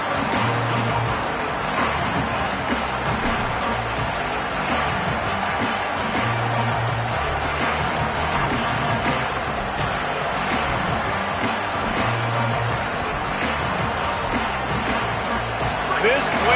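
Dense, steady crowd roar fills a stadium during an American football game, loud and unbroken throughout with broadcast commentary voices talking over it.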